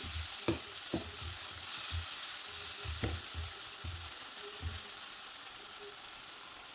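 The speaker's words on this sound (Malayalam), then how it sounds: "നമുക്കെല്ലാം കൂടി ഒന്ന് വഴറ്റി കൊടുക്കാം." Chili powder and a tablespoon of coriander powder sautéing in a pan for a Kerala chickpea masala curry, a steady close sizzle with a few sharp spatula scrapes and taps, no talk.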